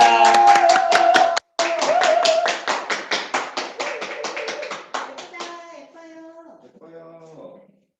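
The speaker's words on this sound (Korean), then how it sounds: "큰 박수 부탁드리겠습니다." An audience at a seminar claps for an arriving guest speaker, a burst of sharp rhythmic hand claps that thins out and fades over several seconds, a voice sounding near the end.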